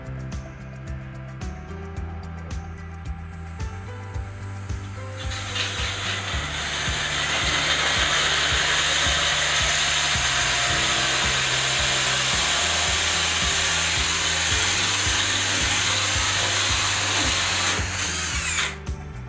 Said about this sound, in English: I am using just regular standard carbide bits to do the hole saws